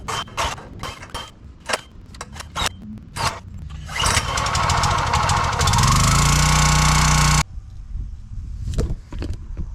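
Small gas engine on a Countyline 25 ton log splitter sputtering and catching in short bursts, then roaring steadily at high revs for a few seconds before cutting out abruptly, leaving clanks and scattered knocks.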